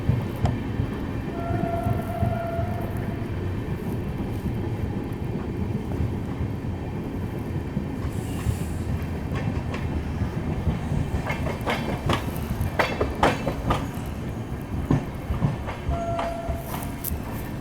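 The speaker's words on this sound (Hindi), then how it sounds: "इसलिए स्पीड अभी थोड़ी सी स्लो डाउन हो गई है ट्रेन की" The Shri Shakti AC Express, running from Katra to New Delhi, rolls slowly through dense fog with a steady heavy rumble and rhythmic clickety-clack of wheels over rail joints throughout, heard from inside the carriage.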